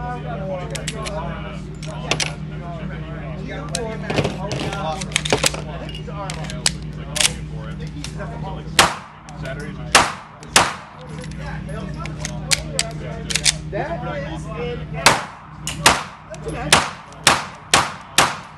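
Gunshots ring out at a Sig Academy shooting range, sharp loud cracks in irregular bursts, some spaced singly and others in quick strings, over a constant noisy background with people talking.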